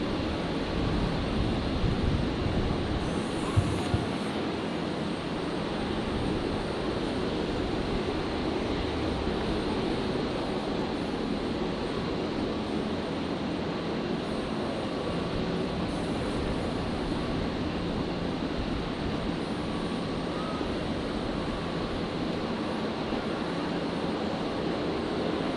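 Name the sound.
Qantas airliner taking off from Brisbane runway 01 left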